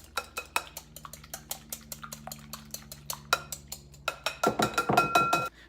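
A whisk beats eggs seasoned with salt and pepper in a bowl, producing rapid rhythmic clinks against the side, close and steady, quickening into a denser, louder flurry near the end, with no talk.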